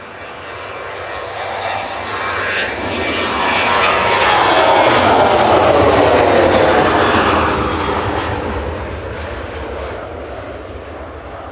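A 16-year-old TUI Airways Boeing 737-800 departing Manchester for Heraklion passes as a loud jet roar that swells to a peak midway and then fades, with no talking.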